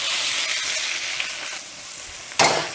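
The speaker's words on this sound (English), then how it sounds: "So you just want to throw your shrimp in and stir them." Shrimp sizzle steadily in a hot stir-fry pan while being stirred, a dense continuous hiss with brief scraping stirs and a louder burst near the end, close up with no talking.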